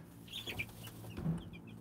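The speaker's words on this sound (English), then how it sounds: "So these are our meat chickens." Meat chickens cluck softly in a coop, a few short clucks close by against quiet background noise.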